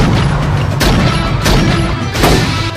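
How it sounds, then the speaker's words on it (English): Movie explosion sound effect from Last Action Hero, loud and dense, with a sustained rumbling roar and several heavy booming bursts layered over it. "Here's another explosion for you movie kids."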